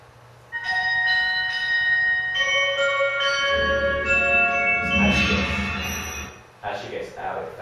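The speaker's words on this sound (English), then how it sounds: "That chime wasn't actually meant to be the lift." Chime used as a transition sound in a film: a series of bright, ringing bell-like tones that overlap and sustain, with some spoken voices partway through before the chime fades away.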